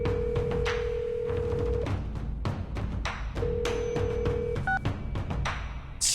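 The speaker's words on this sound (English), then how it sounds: "A phone call? Yes. And you are going to make it." Telephone call in a video game, a steady electronic ringing tone that sounds in two long stretches with short beeps between, over a faint musical background without talk.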